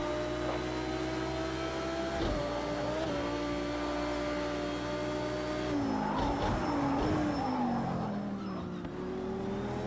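A GT3 race car engine in Project Cars 2 runs loud and steady with short upshifts, tire squeal and skidding sounds during a defensive race while the engine is overheating.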